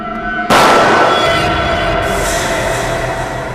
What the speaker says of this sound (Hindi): गोली चलने की आवाज।